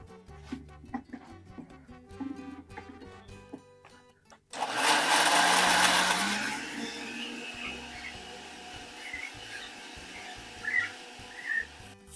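A blender grinds garlic cloves with half a cup of water, starting abruptly after quiet kitchen clatter as a loud whirring roar that eases into a steadier, slightly lower churn until the end.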